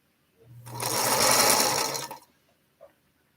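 A sewing machine stitching a quilt block at night runs in one steady, whirring burst of about two seconds, close and clear, followed by a single soft click.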